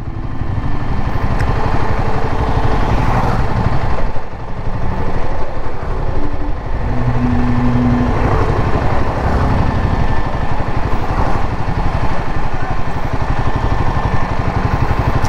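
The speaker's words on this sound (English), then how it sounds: "The fan kicked in to cool the engine" A Royal Enfield Himalayan 450 motorcycle idles steadily close by, its engine a low continuous rumble with the cooling fan whirring along throughout, no one talking.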